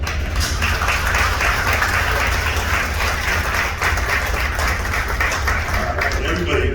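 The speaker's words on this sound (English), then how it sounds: "let's give one more round of applause for Miss Sarah" Sustained applause from a crowd aboard the American Queen steamboat, dense and even clapping that holds steady throughout without pause.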